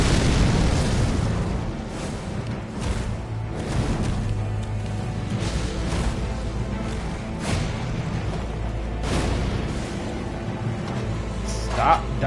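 Fire bolt spell blasts in the game Elden Ring land as a run of deep booming explosions at irregular intervals over a low rumble, with someone talking over them.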